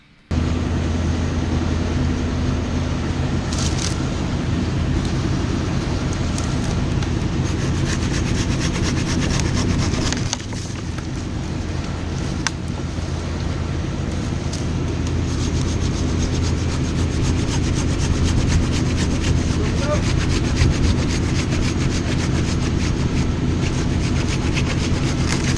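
Stihl PS 10 or PS 60 hand pruner saw cutting through wood in a continuous rasping back-and-forth stroke, steady and close, running the whole time with no talking.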